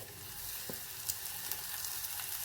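Onion sautéing in hot oil for a sambar tempering, a steady close sizzle with faint crackles and the occasional scrape of a stirring spoon, no voices.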